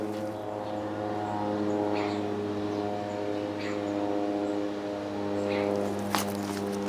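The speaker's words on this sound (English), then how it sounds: "little aeroplane's been sent to annoy me. It's coming round again." A small propeller aeroplane drones steadily overhead above a garden, a continuous humming buzz with even tonal bands, fairly faint and distant. A few light knocks come from close by.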